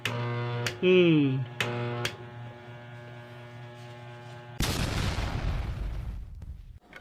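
A Hanabishi windmill wall fan that will not spin properly gives off a steady electrical hum with sharp clicks and a brief rising whine. Near the end a louder, rougher rushing buzz takes over.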